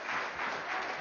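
Audience applause breaking out during a public hearing about voting rights and equal protection, a sustained, fairly distant wash of clapping heard alone.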